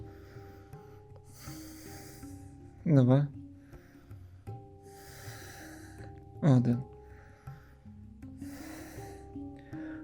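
Two deep, forceful breaths during a gentle hatha yoga session, each a short loud rush a few seconds apart, while a person speaks softly over quiet background music.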